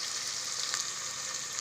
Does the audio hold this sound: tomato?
yes